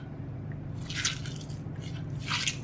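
Steamed flat beans are dropped into a bhorta being mashed by hand, giving a couple of soft wet squishes over a low steady hum.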